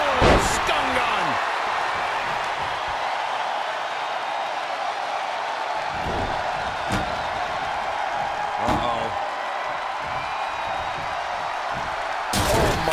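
Wrestler crashing through a table in a WWE Tables, Ladders & Chairs match, sharp loud impacts over steady arena crowd roar, with commentators talking throughout.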